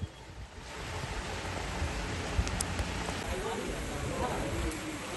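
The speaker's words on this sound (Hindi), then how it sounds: "यहाँ पर भी काफी बारिश हुई है और यहाँ पर बारिश के साथ ओले भी पड़े हैं" Heavy rain with hail in Haridwar, a dense, steady hiss of rainfall pouring down continuously at close range, with a few sharper impacts mixed in.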